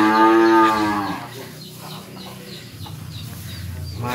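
A cow lets out a long, loud moo in a cattle pen holding Pegon and Java cattle, followed by quieter barn sounds with faint clucking of chickens in the background.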